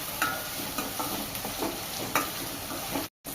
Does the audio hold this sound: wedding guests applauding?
no